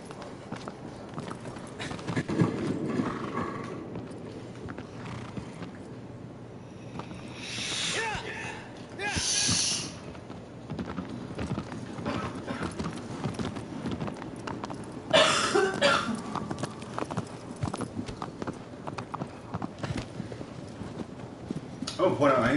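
Horse hooves clip-clop in a steady gait under ongoing talk, with a couple of brief rushing bursts mixed in, from the video game Shadow of the Colossus.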